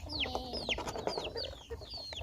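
Several farmyard chickens cluck and squawk close by on a bright morning, with repeated sharp rising calls over a low rustling background and no talking.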